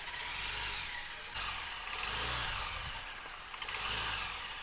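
Hero Maestro scooter engine, freshly rebuilt, running steadily after a self start, with a low, even idle hum and slight swells in level, fairly quiet and with no talk.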